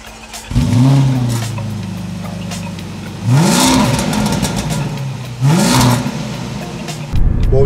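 Tuned V8 car engine uprated from 510 to 650 horsepower revving loudly and close by in three strong bursts, each rising sharply then holding a deep rumbling idle between blips.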